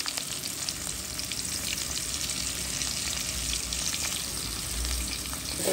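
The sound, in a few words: tomatoes and green chillies frying in a pan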